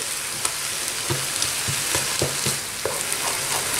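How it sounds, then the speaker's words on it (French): Beaten egg stirred in a hot frying pan, a steady close sizzle with repeated scraping and tapping strokes of the utensil, no talking. "Je vais rajouter un œuf battu dedans. Je mélange tout ça."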